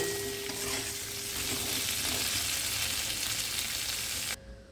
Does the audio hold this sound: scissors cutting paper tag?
no